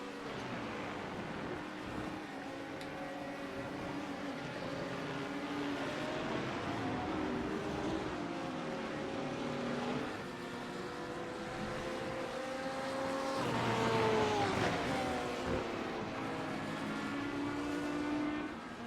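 A Porsche GT3 race car at the Jerez circuit, its engine droning steadily in the distance and swelling to a louder, higher-pitched pass near the middle before easing off, with other engine tones blending in throughout.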